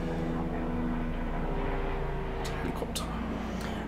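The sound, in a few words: helicopter flying overhead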